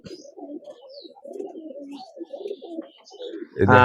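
Giribaz pigeons at a pigeon farm coo steadily in overlapping low, throaty calls, with a few faint higher chirps, ending in a brief louder burst.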